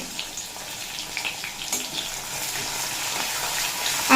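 Chopped ginger and green chillies fry in a pan with a close, hissing sizzle that swells toward the end, along with light stirring scrapes and no voices.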